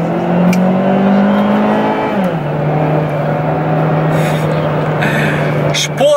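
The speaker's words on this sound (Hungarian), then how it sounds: "akkor a kipufogó miatt, hogy ilyen átvált sportosra, és azért lehet hallani" A new car's engine and exhaust hum close by and loud while the car drives in sport mode. The engine tone holds steady, drops in pitch once partway through, then continues evenly to the end.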